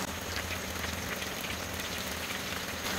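Chicken drumsticks sizzle in hot oil in a pan, a dense, steady crackle and hiss that runs without a break at moderate loudness, with no voices over it.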